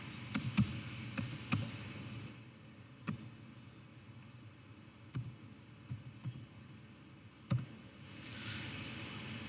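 Scattered keystrokes click sparsely on a computer keyboard, a few quick taps at a time with pauses, over a low steady background hum.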